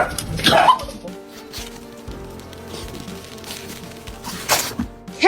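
A dog outdoors in the cold gives a few short barks and whimpers, close and moderately loud, separated by quieter stretches of ambient sound.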